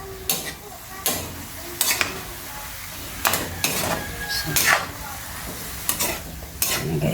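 A utensil stirs salted food in a cooking pot as it sizzles, scraping in repeated sweeps about once a second with brief clanks against the pan over a steady frying hiss.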